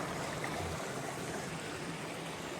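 A river runs at a trail crossing on the Eagle Rock Loop near the Lower Athens Big Fork trailhead, a steady, broad wash of flowing water close by, continuous and unbroken with no voices.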